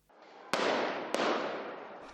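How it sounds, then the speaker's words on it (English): Two sharp gunshots ring out about half a second apart on a street in Harare, each followed by a long, loud rolling echo off surrounding buildings during an army crackdown on protesters; no voices are heard. "Gunfire on the streets of Harare as the army steps in to disperse protesters"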